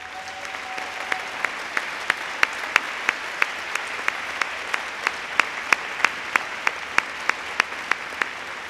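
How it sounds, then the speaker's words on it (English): Applause rises for the scholarship readers at a community college scholarship reception: a steady crowd ovation with crisp, evenly spaced individual claps standing out, lasting the whole stretch without talk. "They deserve a big round of applause."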